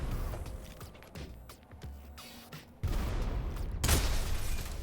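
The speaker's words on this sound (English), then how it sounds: "Grenade. And then... dynamite." In the video game Sulfur, dynamite goes off after a grenade with a sudden heavy blast, preceded by scattered sharp cracks and pops, then a brief second burst over a lingering rumble.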